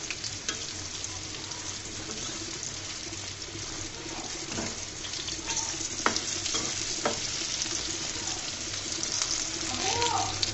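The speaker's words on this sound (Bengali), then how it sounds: "বেগুনগুলোকে আমি সুন্দর করে ভেজে নিচ্ছি।" Eggplant slices crackle and sizzle while frying in a pan for crispy begun bhaja, a steady close hiss with occasional light clinks and scrapes from turning.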